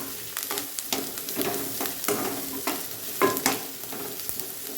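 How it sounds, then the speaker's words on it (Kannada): Ingredients for churmuri snack frying in a pan, a continuous crackling sizzle with repeated spoon strokes scraping and stirring, close and fairly loud. "ಇವಾಗ ಫ್ರೈ ಆಗ್ತಾ ಇದೆ"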